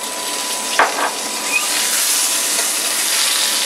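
Butter sizzles and foams in a hot pan with a broad, steady hiss, a couple of brief clatters early on, then an even crackling fizz that holds loud and continuous.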